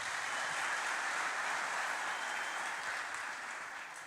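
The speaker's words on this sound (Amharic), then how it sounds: "አጨብጭቡለት።" A church congregation at a prophet's gathering claps together in a steady, even wash of applause that stays loud and fairly constant before easing slightly toward the end, with no voices over it.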